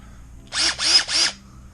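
Power drill backing out screws on a Yamaha Roadstar during engine removal: three close, loud whirring bursts in quick succession, each about a quarter second, in an otherwise quiet space.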